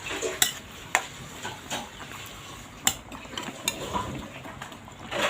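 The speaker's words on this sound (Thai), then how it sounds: "ใส่บักเขือพวงลงไปเลยนะคะ" Pea eggplants go into a pot of boiling broth for a fatty beef stir-fry dish and are stirred, with faint bubbling and scraping broken by light clinks of a utensil against the pot.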